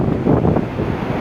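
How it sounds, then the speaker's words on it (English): Gusty wind buffets the microphone on a hike toward North Era, a loud, low rumbling roar with uneven surges and no voices. "a bit windy, as you can hear right here."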